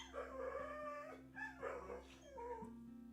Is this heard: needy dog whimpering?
yes